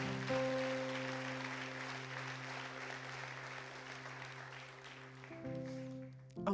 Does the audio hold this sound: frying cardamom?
no